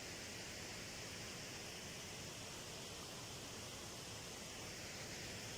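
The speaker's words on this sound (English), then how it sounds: "we have waterfall behind us to go to sleep to, singing us a lullaby" Waterfall behind a wild camp at night on a through-hike, a faint, constant hiss of falling water heard steadily from a distance with no other sounds.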